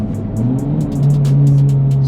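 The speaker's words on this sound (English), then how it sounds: "High revving." A 2024 Acura Integra Type-S turbocharged four-cylinder with a manual gearbox revs steadily and loudly, its engine note climbing and then holding a sustained drone close by, with no talking.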